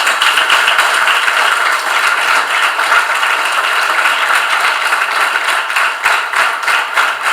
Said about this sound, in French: Je vous prie d'applaudir le professeur Bako Arifari Nassirou pour le recevoir comme il le mérite